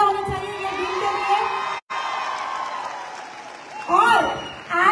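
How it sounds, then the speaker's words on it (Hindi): Crowd at a women's day celebration by Asclepius Wellness applauds and cheers, with shouts and whoops rising through a steady wash of clapping, a brief dropout near the middle and a louder swell near the end; voices carry over it. "जोरदार तालियां होनी चाहिए ये दिन के लिए"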